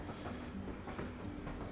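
Inside a moving train, a steady low rumble with faint clickety-clack and hiss from the carriage fills the clip evenly, fairly quiet, with nobody talking.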